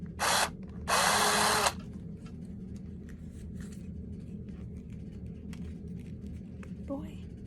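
A power drill drills through a plastic doll's leg in two close, loud bursts, a short one followed by a longer whir, then low background noise with brief speech near the end.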